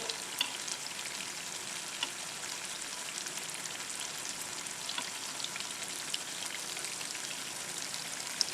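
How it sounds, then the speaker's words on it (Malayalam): Unniyappam frying in oil in an appam pan, a dense, even crackling sizzle with tiny popping bursts, steady and close for the whole stretch with no voices. "തിരിച്ചും മറിച്ചു വിട്ട് നന്നായിട്ടൊന്ന് മൂപ്പിച്ചെടുക്കാം നമുക്ക്"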